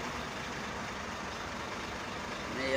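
Air conditioning in a Scania P380 truck cab blows as a steady, close broadband hiss that stays even throughout, with no talk.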